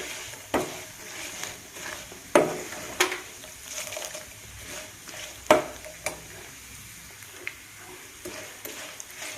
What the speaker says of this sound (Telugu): ఇంకా కొంచెం వేపుకోవాలి,